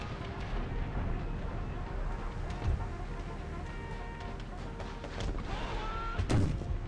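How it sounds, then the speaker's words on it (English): Continuous rumbling battle noise from the video game Empire: Total War (Brothers vs. Brothers mod), with heavy booms and scattered sharp cannon shots as artillery fires on infantry, dense and layered, one louder blast standing out near the end. "All cannons focus fire on their infantry."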